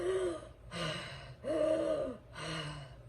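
A voice imitates laboured, gasping breathing, four strained raspy breaths in and out with short pauses between, close and fairly quiet.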